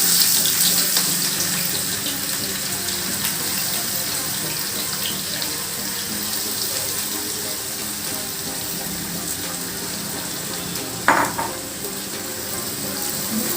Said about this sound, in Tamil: ஆயில் போட்டுட்டு எண்ணெய் சூடானதும் ஆனியன் போட்டுக்கலாம்.